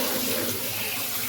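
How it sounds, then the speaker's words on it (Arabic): Tap water running steadily over pomegranates being washed in a kitchen sink, a continuous close hiss and splash with no pauses. "انا بحب اغسل الرمان قبل وبعد"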